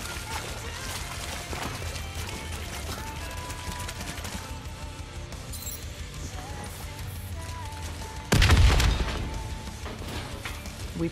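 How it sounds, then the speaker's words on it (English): A loud explosion bursts out partway through a Call of Duty: Black Ops III Nightmares mission on Xbox One, a heavy boom and crash rising over ongoing in-game combat noise, then trailing off. "The explosion blocked our path."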